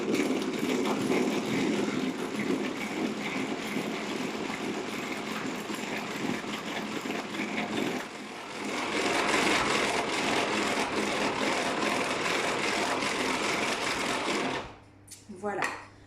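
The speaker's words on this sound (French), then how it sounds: "je vais blanchir le tout à l'aide du moteur" An electric hand mixer motor whirs steadily while beating eggs and sugar for a pear cake batter, a continuous close buzzing drone that dips briefly midway and cuts off near the end.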